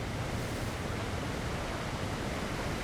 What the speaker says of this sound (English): This waterfall is fucking loud